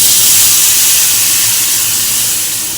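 Cumin powder with ginger and green chilli paste hitting a hot pan for a Bengali fish curry: a loud, sharp, continuous hiss of steam and sizzle that fades slightly toward the end, with no voices.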